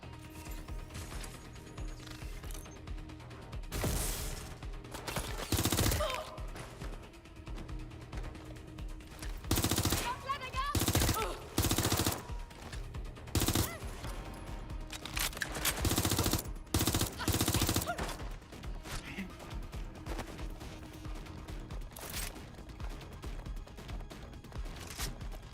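Bursts of automatic and single gunfire from the video game Watch Dogs: Legion, loud, close volleys broken by pauses over a steady background of game ambience and mechanical clatter.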